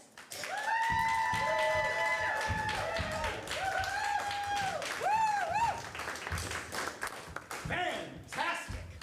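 A studio audience applauds the Impropaganda improv players as they come out, with sustained clapping and bright tonal cheers or music running steadily for the whole stretch before it thins at the end.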